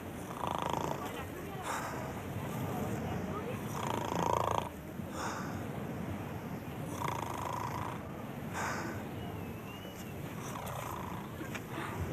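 A cat purrs in a steady, continuous rumble close up, the rhythm pulsing gently with each breath over about twelve seconds.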